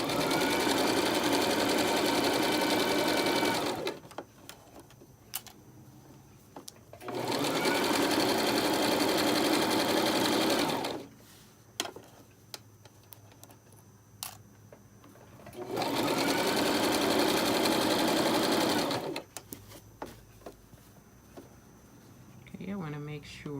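Domestic sewing machine stitching around the edge of a knit infinity scarf, running in three long steady bursts of several seconds each, with quieter handling pauses between them.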